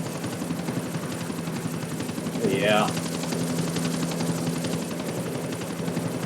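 A helicopter flying in Grand Theft Auto IV gives a steady rotor drone throughout, with a brief louder whooshing swell near the middle and faint talk in the background.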